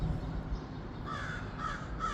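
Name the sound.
crows cawing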